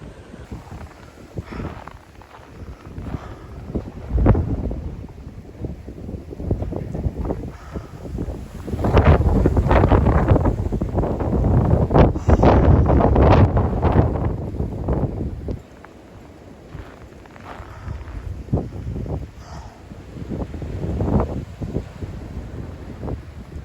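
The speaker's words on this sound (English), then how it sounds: "Bunch of blowing, drifting snow." Blizzard wind drives blowing, drifting snow in a winter storm, roaring in loud gusts against the microphone with a long surging peak midway, then easing to a steadier rush.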